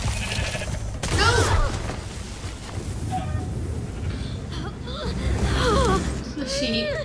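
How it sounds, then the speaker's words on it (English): Sheep bleating in the Minecraft Story Mode video game, several wavering bleats rising in bursts amid noisy game action, with a thud and people talking excitedly over it. "Oh, poor sheep."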